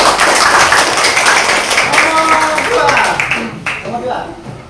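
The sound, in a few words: students clapping in class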